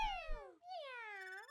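A cat in Super Mario 3D World gives two clear, close meows, the first falling and the second a long, drawn-out call.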